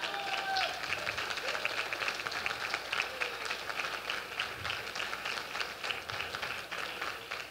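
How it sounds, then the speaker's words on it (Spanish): Applause from the audience at a charity fashion show on a runway, a steady, dense patter of many hands clapping that holds throughout at a moderate distance, with faint voices underneath. "Un gran aplauso para Olga."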